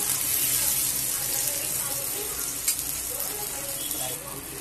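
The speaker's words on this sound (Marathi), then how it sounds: "तर दुसऱ्या साईडने तळतो।" Surmai fish coated in spice masala frying in a shallow layer of oil, a steady close sizzle that continues without a break.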